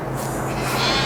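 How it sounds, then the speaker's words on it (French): Sheep bleat in the farming video game Farming Simulator 22, a loud, sustained wavering bleat heard alone and close, filling the whole moment. "Ils sont là les petits moutons là."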